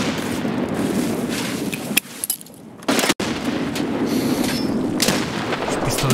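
Gunfire in the video game Escape from Tarkov: loud, dense bursts of shots with a brief lull near the middle, then sustained firing again.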